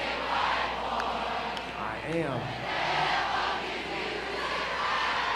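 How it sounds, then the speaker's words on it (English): A ballpark crowd at a Banana Ball baseball game cheers and shouts in a continuous, fairly distant roar, and one voice calls out briefly over it. "Let's take a listen to the crowd."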